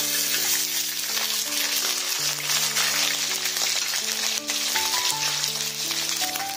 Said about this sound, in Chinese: 一面煎的差不多了，给它反过面继续煎